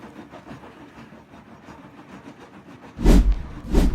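A train runs along rails with a steady, rumbling rhythm. Two loud, heavy clacks near the end stand out above the continuous rolling noise.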